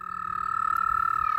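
A puffed-up toad beside a river holds a sustained, unbroken trilling croak, close and fairly loud, steady from start to finish with only quiet outdoor ambience beneath it.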